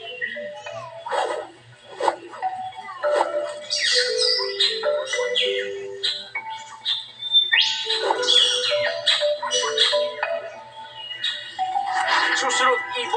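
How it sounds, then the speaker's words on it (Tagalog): Wild birds calling: a lively mix of squawks, chirps and whistled notes in irregular bursts, close and fairly loud, with voices audible in the background. "ibon in the wild, being happy, being free to whatever they want"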